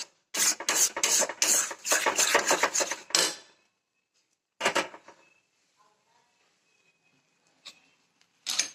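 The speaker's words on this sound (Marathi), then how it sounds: "असं हलवत राहायचं त्याला ते तूप पण छान सुटतंय परत बरं का कढईमध्ये" Mango semolina sheera with ghee, sugar and cardamom stirred in a kadhai, a quick run of close scraping, clattering strokes against the metal followed by a pause and a few isolated knocks.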